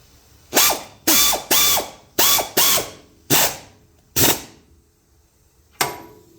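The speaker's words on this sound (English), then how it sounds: "You'll actually be able to feel the bolt tighten up." A hand ratchet drives a socket onto a bolt in several separate strokes: six close, quick clicking bursts, then a pause, one more burst and a last stroke after a longer gap. Each stroke is crisp and near, with no talking.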